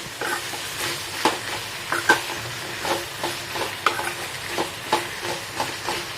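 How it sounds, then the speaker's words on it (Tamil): Sliced okra stir-frying in a hot pan for sambar, a steady sizzle broken by regular scraping and stirring strokes, close and fairly quiet with no talk. "நல்லா வந்து வதக்கிக்கலாம்"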